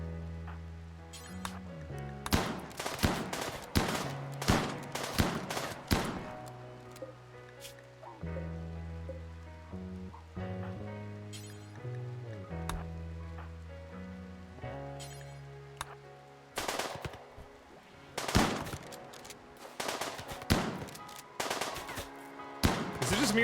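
Raiders' gunfire in RimWorld, bursts of sharp shots in irregular clusters scattered over more than twenty seconds, mixed with background music tones, moderately loud.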